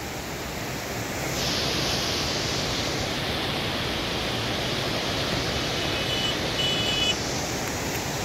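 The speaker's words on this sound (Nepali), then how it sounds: "कलकल बगिरहेको छ हाम्रो दुधे बगरको एकदमै सुन्दर" River water rushing and gurgling at Dudhe Bagar, a dense, steady roar of flowing water, close and continuous without any voices.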